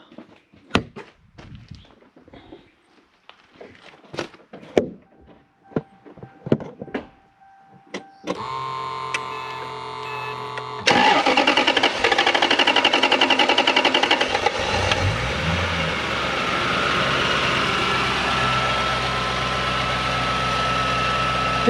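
The engine of a Toyota Soarer / Lexus SC400 with an idle fault starts after scattered clicks and clunks: a starter whirs, the engine catches with a loud rise, then settles into a steady, close idle.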